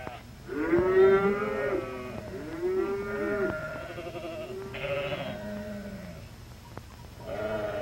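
Dairy cows and young calves moo repeatedly at close range, with several long drawn-out lows overlapping in irregular succession on a farm.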